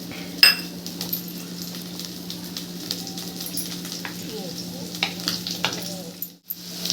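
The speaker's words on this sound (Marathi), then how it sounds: "आणि हा अर्धा कापलेला कांदा हा तळून घेऊ, थोडासा असा लालसर करून घेऊ." A halved onion fries in a few spoonfuls of hot oil for a dhaba-style anda masala, giving a steady close sizzle with occasional metal clinks of a spoon against the pan.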